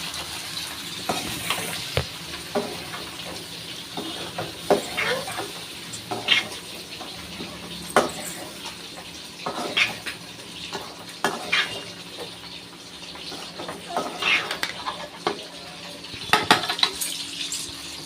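Chicken being stirred into a garam masala, chilli and coriander powder mixture in a pan, with repeated scraping and clinking of a utensil against the metal over a faint sizzle.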